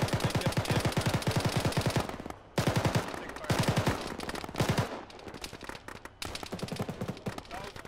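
Heavy automatic gunfire from a big gun in the Arma military shooter game, sustained rapid bursts with short pauses, loud and close, repeating over several seconds.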